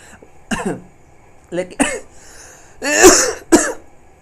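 Several separate coughs and a throat clearing, close by, with short pauses between them and a louder harsh cough near the end.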